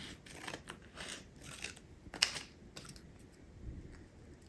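Scissors cutting paper for a junk journal craft, a few short crisp snips with soft paper rustling between them, close and quiet, no voices.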